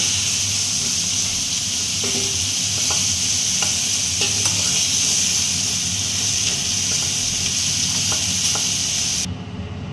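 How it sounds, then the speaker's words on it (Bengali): Shrimp fry in hot oil in a pan, a loud, continuous sizzle with occasional light taps and scrapes of a utensil, no voices. "এইভাবে আমি সব চিংড়িগুলো ভেজে তুলে নেব"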